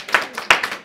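A church congregation claps in quick bursts during worship, several sharp hand-clap volleys arriving in an uneven rhythm with no talking.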